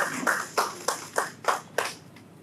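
Audience at an economic outlook panel session clapping as a panelist takes the stage, about seven distinct, evenly spaced claps that fade out, sparse and moderately near.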